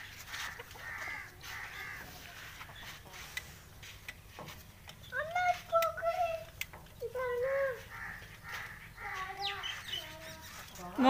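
Hens on a farm being given grain call out in short, tonal bursts, some close and fairly loud, scattered over steady background noise while people talk.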